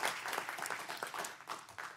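A city council meeting audience applauds a newly sworn-in commissioner with steady, continuous clapping from many hands, fairly faint and heard from across the chamber.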